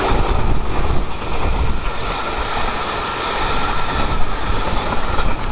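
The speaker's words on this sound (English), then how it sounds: "Here's another down Network Rail aggregates train." A heavy Network Rail aggregates freight train rumbles past close by at Kenilworth Junction, wheels clattering rhythmically on the rails with a steady low roar.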